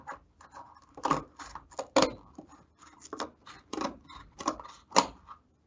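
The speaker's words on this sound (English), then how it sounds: "Sometimes this cardboard can be a little tough to cut through." Scissors cut through tough cardboard in a series of short, crisp snips and crunches, about a dozen uneven strokes close by with brief pauses between them.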